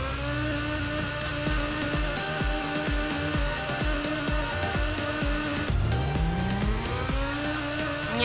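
A Honda car drives off in a Minecraft video game, its engine droning and revving in repeated rising pulses, then sweeping up in pitch as it accelerates, fairly close and alone without talk.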